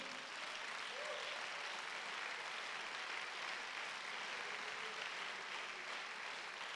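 A church congregation applauds at a sermon, a steady, dense wash of clapping from many hands that holds at an even level for several seconds with no voices over it.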